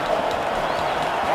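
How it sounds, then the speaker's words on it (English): A football stadium crowd at the 2012 NFC Wild Card game, Seahawks at Redskins, sends up a continuous broad roar of cheering, loud and sustained throughout, with a commentator's voice over it. "Crowd tries to get back into it after watching"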